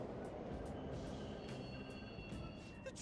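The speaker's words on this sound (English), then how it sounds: "The trains are totally running!" Subway trains running through a station in the video game Persona 5 Royal: a steady, continuous rail rumble with faint high metallic squeal lines, loud and even throughout.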